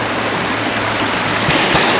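A scenic woodland stream in a nature preserve runs in a constant rushing flow, near and fairly loud, with a couple of brief splashy surges near the end and no talking.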